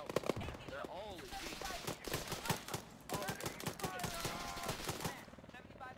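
Rapid bursts of automatic gunfire in the military shooter game ArmA 3, dense and loud, mixed with shouting voices over a busy combat soundscape.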